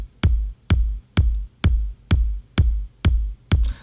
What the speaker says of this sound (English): I decided to put a hi-hat as the top of the top kick